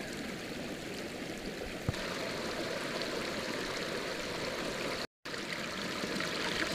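Spring water runs in a small stream on a tree ranch in early May, a steady close rushing trickle that fills the whole stretch, with no voices.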